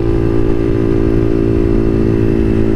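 A motorcycle engine drones loudly and steadily while riding in 4th gear, a close, constant hum with no changes in revs and no one talking.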